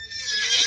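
A short horse neigh from the video game Roblox rises in a single bright, whinnying burst, clear and alone with no talk.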